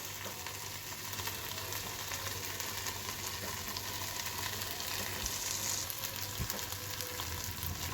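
Potato bhaji sautéing in a pan, a faint steady sizzle and crackle heard close up with occasional light stirring taps.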